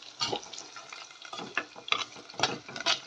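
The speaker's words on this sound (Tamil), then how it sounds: "கத்திரிக்காய் நல்லா எண்ணெயில் வதங்கணும் வதங்கட்டும்" Brinjal (eggplant) pieces sauté in oil with onion and garlic as a spoon stirs them, producing rhythmic scraping strokes over a soft sizzle, close and fairly quiet.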